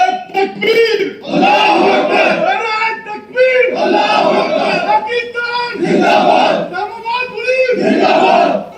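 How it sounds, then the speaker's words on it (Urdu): A large crowd chants slogans at a Long March protest rally in Islamabad. The loud, close, shouted chants rise and fall in steady rhythmic waves with no pauses. "ان کی طرف سے اس طرح سے نعرے لگائے گئے ہیں"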